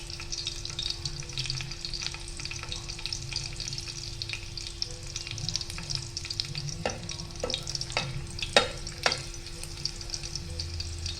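Garlic sizzles steadily in hot oil, stirred until browned for a mixed fish curry, with a continuous close frying hiss broken by a few sharp utensil scrapes near the end.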